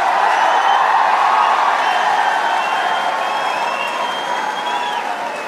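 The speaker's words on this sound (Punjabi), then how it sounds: "ਤਾੜੀ ਮਾਰੋ" A large crowd at Babbu Maan's live show in Auckland, New Zealand, claps and cheers, with a broad roar of applause and scattered whistles, loud and sustained before slowly easing off.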